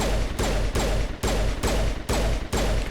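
Rapid weapon fire in the video game Mass Effect: seven evenly spaced, loud, sharp bursts repeat in steady rhythm, each a punchy crack with a short decaying tail.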